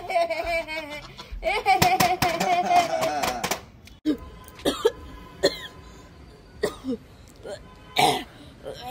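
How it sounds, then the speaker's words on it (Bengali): A child coughs in a few short, sharp bursts spaced a second or so apart, following a stretch of children's voices chanting and talking nearby. "এই তোর তো কাশি হয়েছে"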